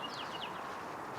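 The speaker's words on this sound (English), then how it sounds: "Let's go photograph these robins." Brief, faint chirps of American robins in a downtown Grand Rapids spring setting, a few quick high notes at the start over soft background hum.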